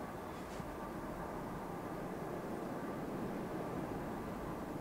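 A low, steady rumble of a CSX freight train of empty ethanol cars rolling past at a distance on a windy day, continuous and broadband, with no voices.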